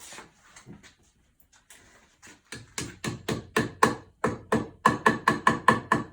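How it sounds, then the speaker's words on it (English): Sledgehammer blows land on a glued wooden biscuit-joint assembly: about a dozen loud, sharp, close knocks in a steady rhythm, after a quieter stretch of faint handling noise. "we're going to take a sledgehammer and hit it"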